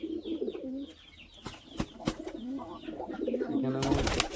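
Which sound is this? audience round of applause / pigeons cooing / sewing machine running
pigeons cooing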